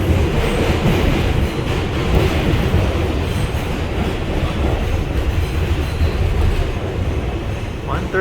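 An R142 New York City subway car on the 5 express line rumbles steadily along the track, with a continuous roaring hum and faint wheel clatter heard from inside the train.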